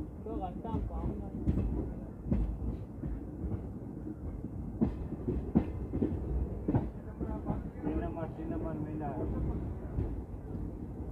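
Jogbani Kolkata superfast express (13160) running after leaving Purnia, heard from inside with continuous rumble and rhythmic clickety-clack of wheels over rail joints, someone speaking over the noise.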